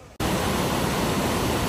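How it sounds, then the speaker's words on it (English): The Green River near Peja, Kosovo rushes in a steady broadband roar after a brief quiet start, loud and close with no voices. "here is called the Green River, very important"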